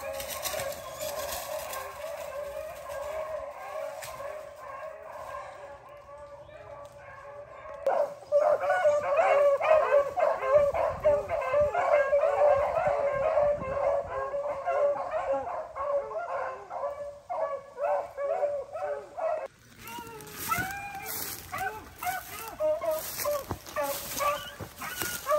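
A pack of beagle hounds barks and bays while chasing big swamp rabbits through thick swamp cover, a steady chorus of yips and howls at middle distance that rises in volume partway through and continues for the whole stretch.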